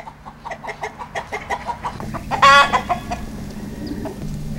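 Muscovy ducks roam a Tennessee yard, giving a run of short, rhythmic clucking calls up close, with a brief, louder burst of squawking partway through before the steady pulses resume.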